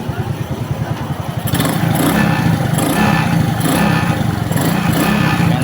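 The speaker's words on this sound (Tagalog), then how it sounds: "Yan ang tunog ng bagong ayos." Suzuki Smash 110 motorcycle engine running steadily after a repair that cured its ticking, a close, even putter that grows louder partway through, with someone talking over it.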